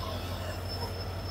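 A steady low rumble and hum of the 12837 Howrah–Puri Superfast Express standing at Howrah platform 23 late at night, a continuous even drone with no distinct clanks or horns.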